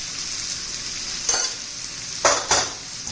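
Bottle gourd vegetables sauté in a pan with homemade masala, chilli, turmeric, coriander powder and salt, a steady close sizzle broken by a few brief stirring scrapes, without talk.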